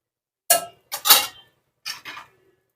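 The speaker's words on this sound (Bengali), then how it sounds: "জল দিয়ে আবার একটু নেড়ে নেব" Stirring egg and soybean curry in a pan after adding water: a few separate scraping, clattering strokes of a utensil against the pan, close and fairly loud, with short gaps between them.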